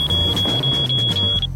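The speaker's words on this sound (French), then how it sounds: "L'alarme incendie va se déclencher." A fire alarm going off indoors, a steady high-pitched electronic tone sounding continuously at close range over a low rumbling background.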